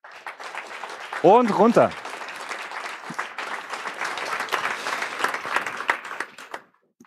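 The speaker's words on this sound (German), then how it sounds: "Großer Applaus für euch nochmal." A youth hackathon audience in Munich applauds a presenting team, clapping rising after a short spoken line and continuing steadily until it cuts off near the end; a voice speaks briefly at the start.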